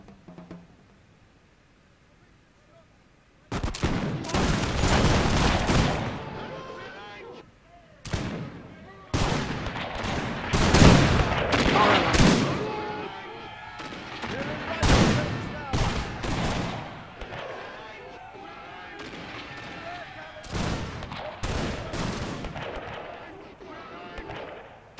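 Repeated musket volleys crack out in Napoleon: Total War on the Rorke's Drift battlefield, loud ragged bursts of massed gunfire rolling one after another over a background of battle noise.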